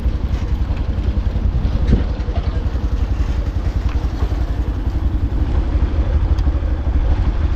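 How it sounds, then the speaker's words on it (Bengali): A motorcycle carries two riders near a lake, its engine chugging in a steady, close, continuous rhythm with light rattling and wind noise throughout. "বাইক নিয়ে যাচ্ছি"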